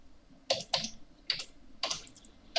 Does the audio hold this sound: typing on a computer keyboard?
yes